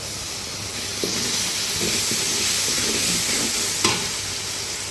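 Tomato paste sizzles loudly and steadily in a hot pan, a broad continuous frying hiss broken by a few sharp clicks of a spoon stirring.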